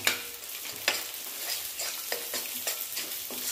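Masala gravy fries in oil in a pan with a steady sizzle, broken by repeated spoon scrapes and stirring knocks at an uneven rhythm, close and moderately quiet, with no talking.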